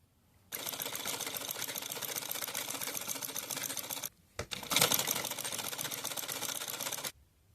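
Sewing machine stitching gota lace trim onto a small doll outfit, a steady close rattling whir that runs for several seconds, stops briefly, then resumes just as loudly to the end with no talking.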